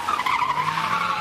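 Car tires skid and squeal loudly and steadily as a high-speed police chase begins on a side street, a sustained screech with no talk.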